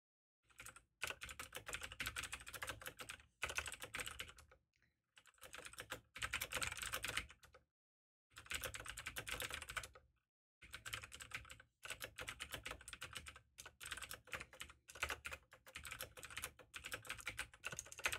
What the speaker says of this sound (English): You're probably going to hear the keyboard